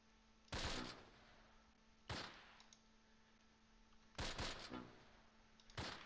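Bursts of gunfire in the World War II strategy game Close Combat Last Stand Arnhem, set at Hatert Bridge: four short volleys of crackling shots about every one to two seconds, each a sharp loud burst fading into a softer tail, with a steady hum underneath.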